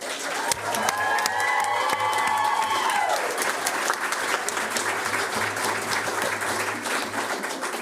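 Sustained applause from the audience at a board of education work session after a deputy chief of transportation is appointed, a dense, even round of clapping with some cheering and a low background hum.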